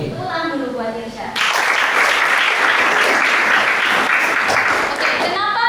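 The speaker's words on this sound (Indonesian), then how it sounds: "Tepuk tangan dulu buat Irsyad." A high school history class breaks into applause after a brief voice, a dense burst of clapping that lasts about four seconds before speech returns.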